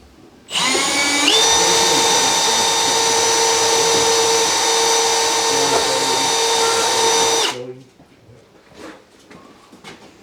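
A power drill whines steadily at high pitch for about seven seconds, then cuts off, leaving faint background noise.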